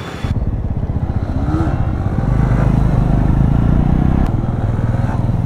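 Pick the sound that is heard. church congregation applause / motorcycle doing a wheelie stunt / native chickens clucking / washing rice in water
motorcycle doing a wheelie stunt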